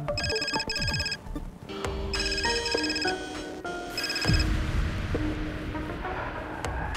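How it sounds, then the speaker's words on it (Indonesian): A phone ringtone plays an electronic melody of repeated bright tones in bursts, loud and close, with short gaps between phrases over a low background hum; no one speaks. "Ngapain Pak Raymond pagi-pagi gini ada telepon ya?"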